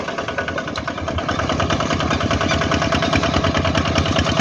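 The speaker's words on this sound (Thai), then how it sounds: "เกวเพิ่งจับรถไถเนาะ" A farm tractor engine runs steadily up close, its low chugging pulse even and unbroken, with no voices.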